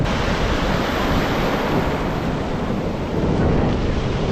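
Ocean surf rolls in at Puri beach on the Bay of Bengal coast, a loud, continuous wash of breaking waves with wind buffeting the microphone throughout and no voices.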